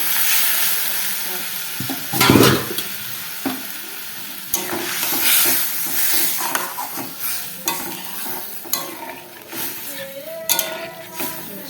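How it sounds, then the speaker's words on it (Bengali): Snail curry with potatoes frying in a pan, loud close sizzling mixed with repeated scrapes and clinks of a utensil stirring against metal, uneven bursts throughout. "এটা আমি কষা কষা মাখা মাখা করবো"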